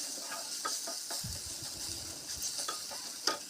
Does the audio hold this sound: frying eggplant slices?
yes